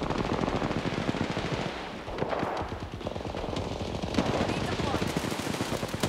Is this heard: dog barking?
no